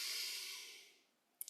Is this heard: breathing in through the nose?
yes